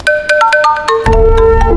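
A phone ringtone plays a bright electronic melody of short stepped notes, loud and close, with a deeper tone filling in partway through.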